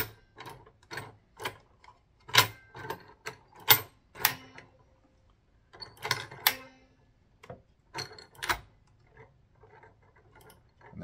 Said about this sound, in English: I'm not going to run the machine, but I'll just kind of run it manually with my hands